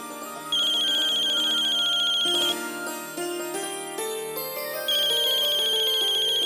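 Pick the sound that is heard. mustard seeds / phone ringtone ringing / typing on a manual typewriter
phone ringtone ringing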